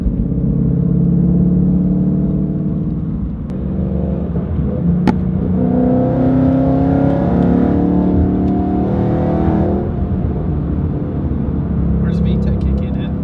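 A Nissan 370Z Nismo with a six-speed gearbox revs hard while drifting, a loud, steady engine roar rising and falling throughout, with voices talking over it.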